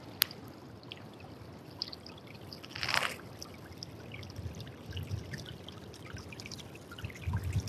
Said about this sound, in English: And here's this little creek.